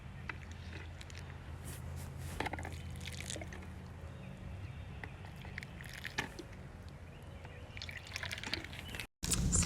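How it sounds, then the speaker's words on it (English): Water is poured over potted-up tomato seedlings, giving soft, quiet trickling and dripping close by, with no talking. "once your seedlings are all potted up, your next step, give them a drink of water"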